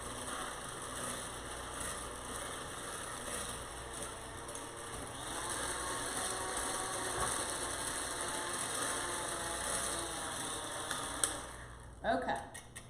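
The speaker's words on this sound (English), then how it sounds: "The safety switch is a little different when you're using the hand mixer attachment. So you're gonna press that, and we're gonna just whisk this together." A hand mixer runs on low, whisking banana pudding. It gives a steady, close mechanical whir with a gear-like ratcheting texture that lasts almost the whole time, then ends in a few handling clatters.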